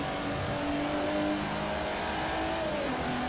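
A Jaguar's engine in the Forza Motorsport 4 racing game holds a steady high revving drone, its pitch rising slightly and then dropping near the end, loud and continuous without speech.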